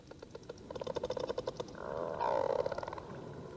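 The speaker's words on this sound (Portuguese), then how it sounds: "Os cliques parecem vir de mais de uma baleia." Whale clicks recorded underwater by a camera mounted on a diving whale among several whales, with rapid trains of pulsed clicks over a low rumbling water noise, followed by a louder tonal, groaning sound.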